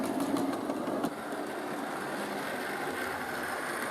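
A model railway locomotive runs around the track with a steady low whirring motor hum, continuous and moderately faint, with a small click near the start.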